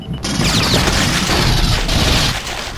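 Gunfire in Aliens: Eradication, a Doom 2 total conversion game, loud and continuous, with rapid overlapping shots and booms filling nearly three seconds.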